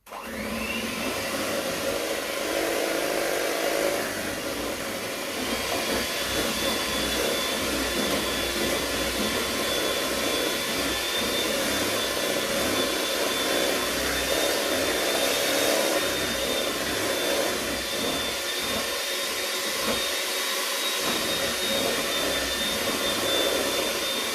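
An electric mixer whips cream for cream cheese ice cream, a continuous loud motor whir with a steady high whine that runs unbroken for over twenty seconds.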